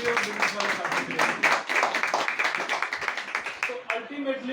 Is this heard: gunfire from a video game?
no